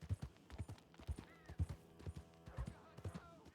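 Horse hooves in the video game Red Dead Redemption 2, a steady clip-clop gait of rhythmic thuds while riding, with faint voice in the background.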